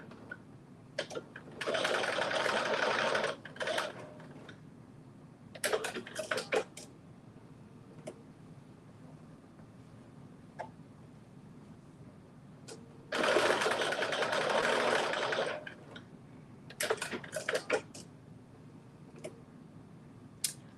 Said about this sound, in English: it's just a quick stitch in over the casing